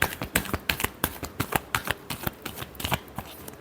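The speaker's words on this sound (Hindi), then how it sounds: "Last shuffle." Tarot cards are riffled and shuffled by hand at close range, a rapid run of crisp slapping flicks in uneven bursts with no voices.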